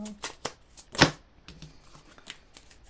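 Oracle cards being shuffled by hand, a series of crisp riffling flicks with one loud snap near the middle, close up and interspersed with a voice speaking.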